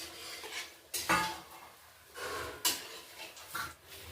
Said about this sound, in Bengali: এই যে বন্ধুরা এরকমভাবে সবগুলোকে ভেজে নেবো এইভাবে।